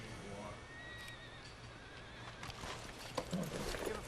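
A horse in the Red Dead Redemption 2 video game neighs and whinnies at a faint level, with clip-clop hoof sounds and soft game ambience around it.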